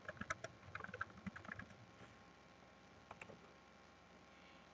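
Fingers type on a computer keyboard, tapping in quick close clusters for the first couple of seconds, then slowing to sparse occasional keystrokes in a quiet room.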